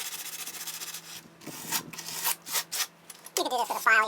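Sandpaper rubs the sharp cut edge of sheet metal in a series of short, scratchy strokes with brief pauses between them, close by, with a voice briefly heard at the end.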